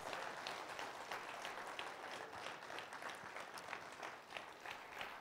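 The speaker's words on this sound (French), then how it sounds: "Nous allons accueillir maintenant pour les pépites Elda Rayimwende Kwama qu'on va applaudir très très fort." An audience applauds a guest arriving at a business pitching event, steady crowd clapping with individual claps audible, fairly quiet and distant-sounding, continuous without speech.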